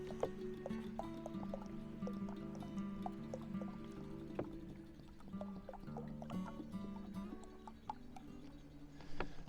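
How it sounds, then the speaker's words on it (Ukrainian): Water is poured into a jar while making homemade kvass, a quiet, continuous trickle with faint tonal ringing as the vessel fills. "Зараз я долью води."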